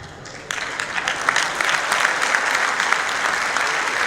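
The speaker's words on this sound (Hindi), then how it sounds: "पीछे आखिरी बंदे तक तालियां बजा देना" An audience at a Haryanvi comedy poetry show in Dubai breaks into loud, sustained clapping that swells suddenly and holds steady throughout.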